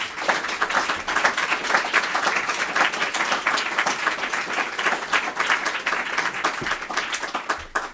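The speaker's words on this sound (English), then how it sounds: "can you put your hands together and give the panel a round of applause?" A conference audience gives a climate-policy panel a round of applause after a COP 24 discussion, with steady, dense clapping from many hands that continues evenly throughout at close range.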